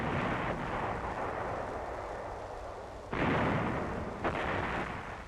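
A tank gun fires a heavy round in an old military film. A sustained rumbling boom is followed by a sharp louder blast near the end and a second brief report just after, with no speech.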